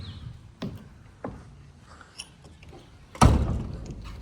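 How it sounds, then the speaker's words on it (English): A door that won't shut is tried during a home walkthrough: a few soft, dull thumps against the frame, then one louder, heavier thud near the end, with no talking. "yeah, door doesn't want to shut"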